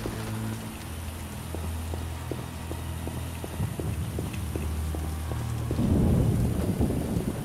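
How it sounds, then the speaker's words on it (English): Rainstorm ambience in The Witcher video game, a steady hiss of falling rain with low rumbling and a rhythmic clip-clop of hooves underneath, swelling louder near the end. "It is raining!"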